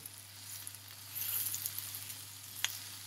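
Minced meat sautés with onions in a pan, giving a steady soft sizzle and crackle at close range, with a faint scrape of stirring and one sharp tap near the end. No one speaks.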